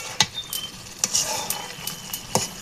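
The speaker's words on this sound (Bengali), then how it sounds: "হলুদ মরিচের মশলার লাগে এক লগে কষাই নেব" Spices with turmeric and chili are stir-fried in a pan, heard as a soft sizzle under sharp, irregular spatula taps and scrapes at close range, with no talking.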